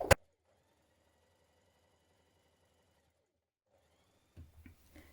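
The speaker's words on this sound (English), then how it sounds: "Stay stitch along the top of the skirt front panel." A sewing machine stay stitching the top of a skirt front panel, a faint, steady mechanical whir for about three seconds after a sharp click, then brief handling noises.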